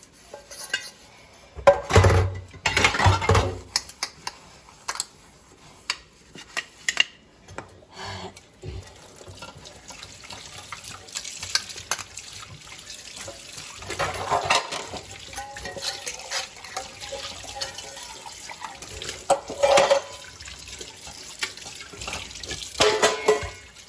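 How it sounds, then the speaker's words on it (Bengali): Dishes get scrubbed under running tap water, with bursts of flowing water, clattering pots and clinking cutlery coming and going over about twenty-four seconds, close and moderately loud, without talking. "খাওয়া দাওয়া করে বাসনগুলো মেজে নিচ্ছি"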